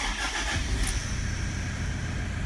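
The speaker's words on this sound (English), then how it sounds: "Let's get the engine started like we do." A Toyota Hilux Vigo engine cranks briefly and catches, settling into a steady mid-pitched running hum with a slight rise, heard close and alone.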